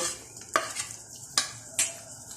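Spices and onion paste frying in a pan for a cauliflower korma, a soft steady sizzle broken by three sharp scraping stirs of a utensil against the pan, close and fairly quiet.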